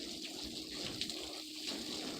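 Water from a hose rinsing a car hood after a clear vinyl protective film is installed, a steady, even hiss and splash that runs continuously and is heard alone.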